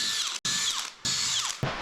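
A power drill bores out bolt holes in a new boat deck while a bowsprit is being installed, whining steadily through two long passes with a brief pause between them and a short restart at the end, close and fairly loud.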